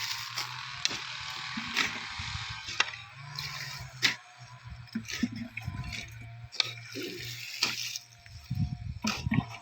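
Water runs steadily from a tap with intermittent clatter and knocks of items being handled nearby.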